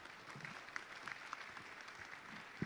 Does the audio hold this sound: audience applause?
yes